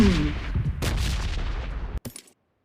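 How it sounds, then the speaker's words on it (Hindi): Bombardment-zone explosions in PUBG on the Erangel map, a rapid cluster of loud booming blasts over about two seconds, followed by one last sharp crack and then silence. "अब बम गिरने चालू हुए, बम बमा बम"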